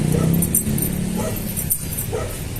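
A big dog barks and yips a few times, fairly close and loud, with some faint background voices.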